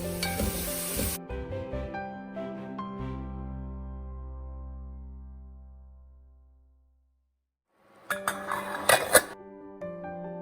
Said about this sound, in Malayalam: അതിലേക്ക് വെളിച്ചെണ്ണ ഒഴിച്ചു കൊടുത്തിട്ട് നമ്മൾ അരിഞ്ഞു വെച്ചിട്ടുള്ള സവാളയും കറിവേപ്പിലയും ഒന്ന് വഴറ്റിയെടുക്കുകയാണ്